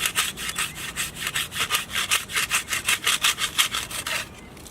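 Rhythmic rasping of a hand-held KSEIBI 6-inch Surform pocket rasp plane shaping and rounding a wooden edge, about twenty steady back-and-forth strokes up close, ending in quiet.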